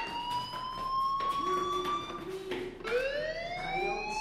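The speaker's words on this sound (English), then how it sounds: "Hey, do you hear that fire alarm?" A school fire alarm ringing in the video game Life Is Strange, steady electronic tones with warbling pitch, moderately loud and continuous.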